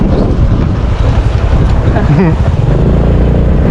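Strong wind buffets the microphone throughout a boat ride on the way to Talegra, a steady loud rush with an engine-like drone underneath and people's voices briefly breaking through.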